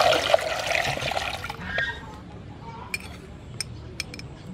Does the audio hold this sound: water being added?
yes